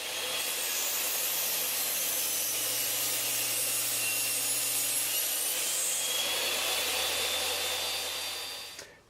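A homemade table saw rips through a piece of cedar in one continuous, loud, close cut: a steady high whine with a hissing, rasping edge that fades out at the end, no talking.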